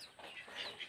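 Kadaknath chicks clucking and peeping faintly, a few soft, thin calls in quick succession in a quiet setting.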